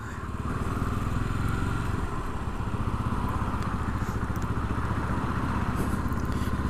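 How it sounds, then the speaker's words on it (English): A Yamaha SR400 single-cylinder motorcycle engine rumbles steadily at low revs, a loud, continuous pulsing throb heard close up, with no talk over it. "It's not vibrating, it's actually rumbling along. Especially at low revs, feels really nice."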